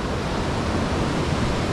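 The large Yamuna river, a big tributary, flows steadily as a broad, even wash of water noise. The sound is continuous and fairly loud, with no voices.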